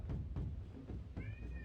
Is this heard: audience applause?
no